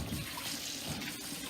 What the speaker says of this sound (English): First thing we'll do is get some water in there.